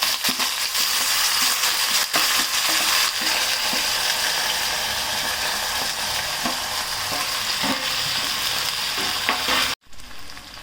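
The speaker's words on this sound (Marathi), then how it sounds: "बटाटा तेलामध्ये चांगला भाजून घ्यायचा" Potatoes frying in hot oil give a steady, loud sizzle with small stirring scrapes and crackles throughout, cutting off abruptly near the end.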